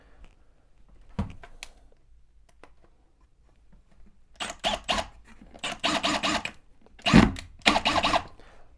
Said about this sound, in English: Now I'm screwing on a piece of scrap wood here so that I don't accidentally screw into my floor